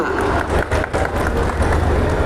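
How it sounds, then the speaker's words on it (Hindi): A crowd at a political rally with the state chief minister applauds in a dense, continuous wash of clapping and crowd noise, fairly loud and steady throughout. "तालियां आपकी तरफ से होनी चाहिए, कम हो रही है, जोरदार तालियां"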